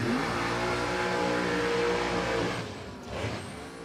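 Holden HG drag car with a 540 cubic-inch engine roars down the strip at Warwick Dragway, a loud sustained rising engine note that fades after about two and a half seconds, with a brief later burst.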